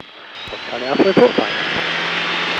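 Skyranger microlight aircraft engine at full power during takeoff from a grass runway, a steady drone heard from the cockpit under brief radio speech.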